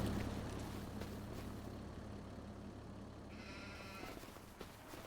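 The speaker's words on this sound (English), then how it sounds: "Look at the sheepies. Doing sheepy things." Sheep and two-month-old lambs bleating on a farm, a few faint calls rising over a steady rumbling outdoor background, distant and low in level.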